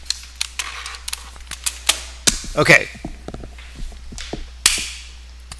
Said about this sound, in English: This is my keyboard.